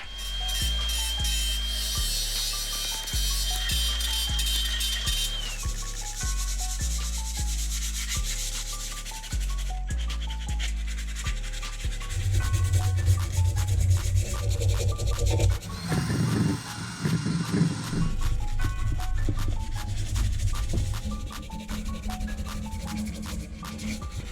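Hand sanding on a metal part during a restoration, a steady rasping scrape in continuous strokes, close and fairly loud, with no talking.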